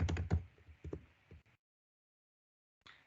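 Quick taps on a computer keyboard typing out a short command, a close burst of keystrokes that trails off into silence before a couple more clicks at the end.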